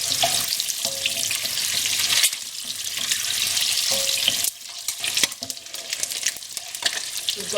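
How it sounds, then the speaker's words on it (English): Eggs fry in hot oil in a pan for a Bangladeshi egg curry, giving a steady close sizzle and crackle with a few sharper pops and spatters and no talking. "We've got the lid here and we're frying the eggs just to kind of shield ourselves from sputtering hot oil."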